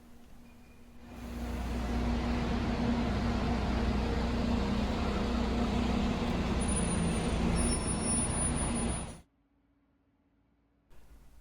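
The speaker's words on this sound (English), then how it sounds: "And here's the Charlestown bus coming into the bus stand." A Charlestown bus pulls into a bus stand at Newcastle Interchange, its heavy engine rumble rising and holding steady for several seconds, with a faint air-brake hiss late on before it cuts off abruptly.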